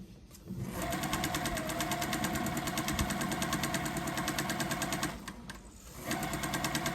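A sewing machine runs steadily while stitching quilt rows, a close, continuous rhythmic whir that dips briefly near the end before starting up again.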